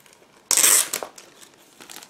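A sharp burst of plastic crinkling as a bag of Special Hobby 1/72 Mirage F.1CG model kit parts is torn open, followed by softer rustling handling noises.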